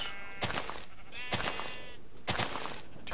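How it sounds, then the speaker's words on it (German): Three separate sheep bleats from the Minecraft TerraFirmaCraft mod, each a short wavering cry spaced about a second apart over a quiet background. "die Schafe werde ich jetzt noch nicht zerlegen"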